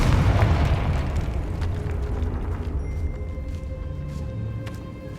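A Confringo blast spell in Hogwarts Legacy erupts as a loud boom that rolls off into a long, slowly fading rumble with faint ringing tones beneath.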